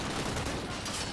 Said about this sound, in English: there's more shooting